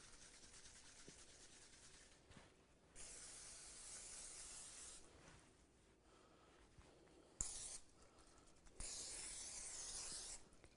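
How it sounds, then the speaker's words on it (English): Vegetable oil is sprayed from a can onto tortilla strips in several separate hissing bursts, close and fairly loud, with quiet rustling between sprays. "just going to spray a little vegetable oil on them"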